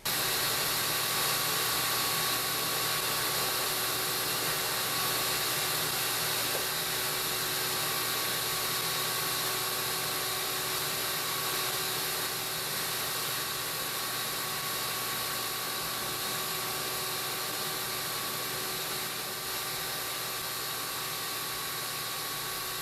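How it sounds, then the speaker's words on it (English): A shop vac runs steadily as it blows air and dust out from behind a refrigerator, a constant loud whoosh with a faint motor whine that holds unchanged and close throughout, with no voices. "I'll be using that shop vac to blow from the back of the refrigerator."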